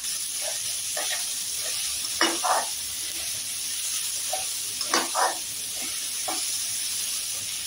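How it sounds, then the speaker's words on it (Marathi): Chopped onion, green chili and capsicum stir-fry in a pan for Veg Manchurian gravy, hissing steadily with a few sharp stirring scrapes and clatters, close by and without talk. "1-2 मिनिटं फक्त त्यांना चांगलं फ्राय करून घेणार आहे"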